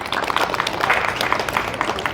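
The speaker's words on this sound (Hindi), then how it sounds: "तो आप सभी देवता बच्चों के लिए तालियां।" An audience claps for children at a Gujarat Rajya Yoga Board summer camp, a dense, continuous patter of many hands lasting a couple of seconds without voices on top.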